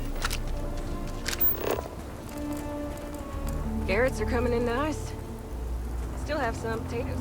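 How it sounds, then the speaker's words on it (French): Steady rain falls in the video game Starfield, a constant hiss throughout, with brief voice-like tonal game sounds rising over it midway and near the end. "Pour cette pluie là, faut que ça s'arrête hein, par contre."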